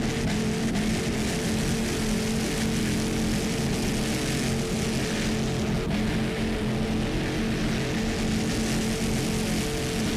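A racing powerboat with two 500 horsepower inboard engines at an APBA world championship race, a dense continuous engine roar heard steadily throughout with no talk.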